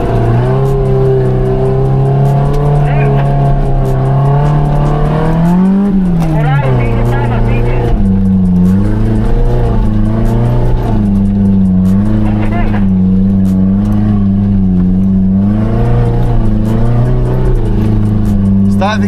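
An off-road vehicle engine at a mud challenge event near Vermio, loud and close, its drone steady with repeated revs rising and falling throughout, while people talk over it.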